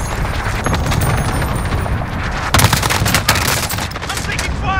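Gunfire in a shooter video game: dense, rapid bursts and automatic volleys crackle and pop loudly, with a few heavier booms and voices shouting among the shots.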